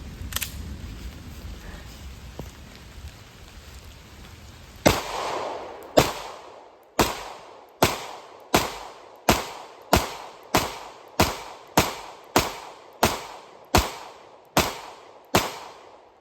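A Hellcat pistol fires a dozen sharp, loud shots at a target in the rain, spaced roughly evenly about a second apart, each crack followed by a short echo, after several seconds of quiet rainy ambience.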